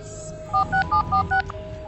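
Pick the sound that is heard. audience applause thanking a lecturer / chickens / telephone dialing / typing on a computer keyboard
telephone dialing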